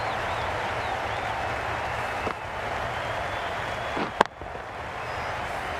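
Steady stadium crowd applause and a broad roar of noise in a Cricket 22 IPL match between Chennai Super Kings and Sunrisers Hyderabad, with one sharp crack near the end and faint commentary underneath.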